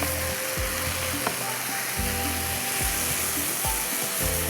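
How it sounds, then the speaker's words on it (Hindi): Fish pieces for dum machli fry in a pan with a dense, steady sizzle, broken by repeated scraping and stirring thuds at regular intervals, close and alone without speech. "खूब अच्छी तरह से आपने इसको भूनना"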